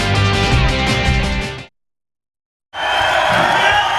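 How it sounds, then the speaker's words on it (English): Spectators at the 2008 US Open racquetball semifinal cheering and shouting, a loud burst of crowd noise that cuts out abruptly, then returns as a sustained roar. "You hear this crowd trying to fire up Jack Huscek to get back into this."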